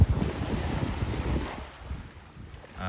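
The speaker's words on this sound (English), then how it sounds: "So, it's an offshore wind, so I suggest paddling really hard towards shore once you get on there." Offshore wind blowing at a beach among dunes, buffeting the microphone in uneven gusts that ease toward the end, with no speech.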